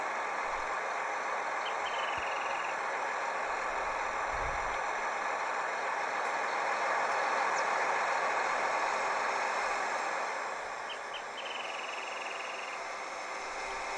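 A tractor engine runs steadily nearby, a continuous broad drone holding at an even level throughout with no voices.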